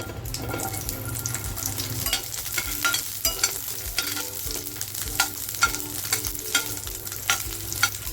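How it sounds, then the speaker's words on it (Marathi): Small chopped onions sizzle and fry in hot oil for a dhaba-style egg tikka masala, with a steady broadband hiss punctuated by repeated scraping stirs of a spoon in the pan, close and fairly loud, with no talking. "हे जे कांदे घेतलेत मी छोटे छोटे ते कांदे मी तेलामध्ये टाकते अगोदर"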